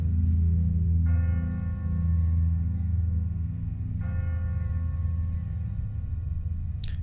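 A large tower bell tolls twice in The Walking Dead video game, each deep ringing strike several seconds apart and lingering over a low background hum.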